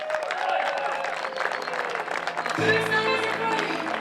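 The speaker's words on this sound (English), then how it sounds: "Give him a round of applause." A crowd claps and cheers steadily at a charity boxing match, with voices mixed in and music starting partway through.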